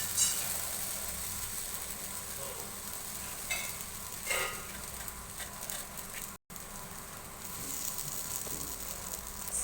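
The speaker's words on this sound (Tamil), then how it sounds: "கருணக்கிழங்கு ஃப்ரை பண்ணுறதுக்கு அதில் கொஞ்சம் எண்ணெய் சேர்த்துக்கிறேன்" Spiced elephant foot yam pieces fry in oil on a tawa, giving a steady, close sizzle with a few scraping stirs. A brief dropout cuts the sound partway, and no one speaks.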